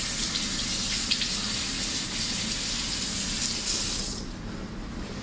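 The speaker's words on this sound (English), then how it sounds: "you want to rinse completely so you don't leave soap on your hands" Tap water pours over hands to rinse away soap, a steady close splashing stream at a fairly loud, even level that drops off near the end as the flow is cut, no speech.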